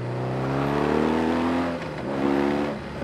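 A 2012 BMW R 1200 GS Triple Black motorcycle accelerating hard out of a bend, a loud, close engine drone with rising harmonics, briefly dipping near the middle before pulling strongly again.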